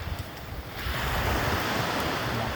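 Ocean waves breaking on a beach, a broad steady wash of surf that grows louder after the first second and holds, with some wind rumble on the microphone and no voices.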